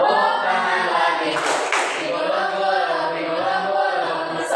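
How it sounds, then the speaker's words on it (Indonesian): A group of people in a teaching session claps together in a brisk, dense burst of hand claps. The clapping is close and lively, with a brief peak of louder claps partway through. "Bertepuk tangan"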